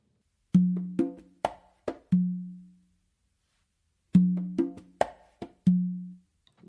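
Congas play a two-bar pattern alone and up close. Quick soft ghost taps and sharper slaps lead into deep, ringing open tones on the tumba, and the phrase repeats after a short pause.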